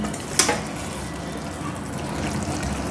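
Water poured into a pan of sautéed pav bhaji vegetables (carrot, capsicum), giving a short splash followed by a steady gurgling, bubbling hiss close by.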